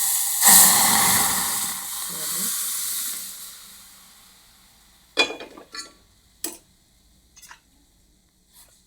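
A loud burst of sizzling hiss flares up as moong dal is added to hot tempering, slowly dying down, followed by a few scattered light clicks and taps in near silence.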